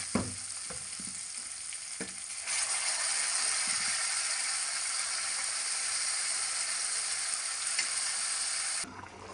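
Spice tempering sizzles loudly in a pan of khichdi, a broad steady frying hiss that swells after a few soft stirs and clinks and runs for several seconds before cutting off abruptly near the end.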